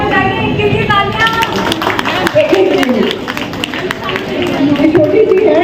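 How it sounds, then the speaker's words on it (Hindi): An audience at the Inner Wheel Club of Delhi Civil Lines charter day celebration claps steadily throughout, with a speaker and people talking loudly over the applause. "इनके लिए तालियां."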